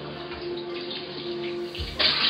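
Water runs steadily from a tap to wet hair before shampooing, a continuous close splashing hiss that grows louder and brighter near the end as the flow hits.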